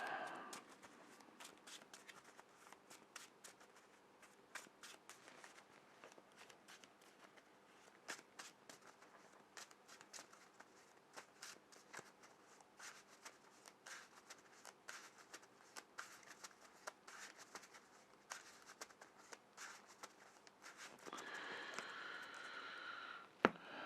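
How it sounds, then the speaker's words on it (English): Marvel Champions playing cards are shuffled by hand in a long run of quick, soft riffling and snapping bursts, faint and close, with a brief louder rustle near the end. "And shuffling."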